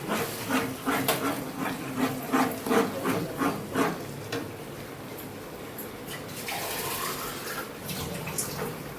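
Water being poured into a pot of buttermilk curry made without ground coconut: a few seconds of splashy, rhythmic gulps, then a steady, softer trickling pour with no talking.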